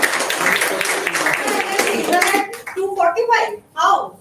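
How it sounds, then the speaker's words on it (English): Audience applause at a year-end tech celebration meet, a dense wash of clapping that fills the room for about two seconds before fading, then a voice talks over the last of it. "Let's have a round of applause."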